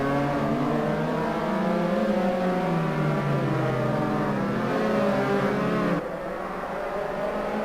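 Open-wheel SimF3 race car engines in Assetto Corsa at the Algarve circuit, a steady loud multi-car engine drone with shifting pitch as cars accelerate, easing slightly near the end.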